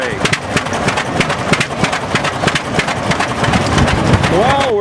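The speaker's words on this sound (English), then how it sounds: "Watch that flywheel just cranking over. Keeps cranking over. And she shakes a bit." An old engine at a vintage tractor show runs with its flywheel cranking over and the machine shaking a little, giving a steady rhythmic chugging with regular beats alongside crowd murmur and people talking nearby.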